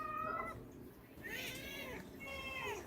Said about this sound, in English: Just meowing away.